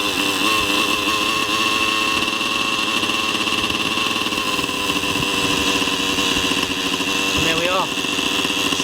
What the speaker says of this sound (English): the engine is ticking over, running nicely, right out of the box